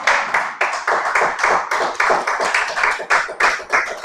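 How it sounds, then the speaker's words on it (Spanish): A church congregation claps in a rhythmic, even beat, close and clear, one strong pulse following another for several seconds with no talking over it. "¿Cuántos le dan un aplauso al Señor?"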